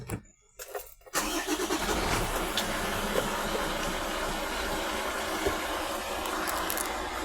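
A truck engine cranks briefly and catches, then settles into a loud, steady rumbling idle that continues without talk.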